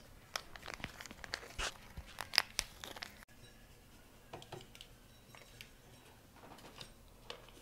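A yeast packet is torn and crinkled open for bread dough: a quick burst of sharp paper tearing and crumpling up close, followed by softer, scattered rustles.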